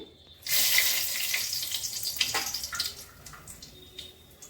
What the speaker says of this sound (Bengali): প্রথমেই বড়িগুলো ভেজে নিচ্ছি শুকনো লঙ্কা ফোড়ন করছি